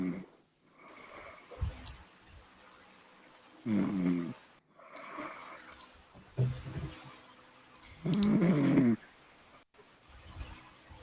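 A person snores in loud, rasping bursts that repeat every few seconds, with quieter breathing and faint background noise in the gaps.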